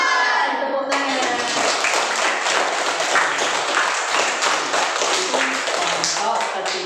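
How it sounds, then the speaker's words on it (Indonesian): Children in a primary school classroom clap their hands together after a teacher's prompt, loud continuous group clapping with some rhythmic unison, preceded by a brief spoken voice and with voices mixed in. "Tepuk tangan."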